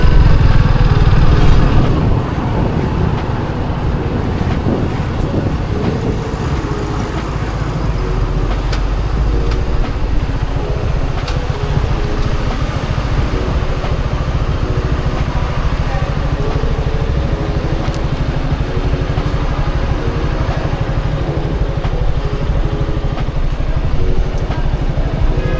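Motorcycle riding along the dedicated bike lane of the Padma Bridge: a continuous loud engine drone with heavy wind rumble, close and steady, running for the whole stretch with no talking.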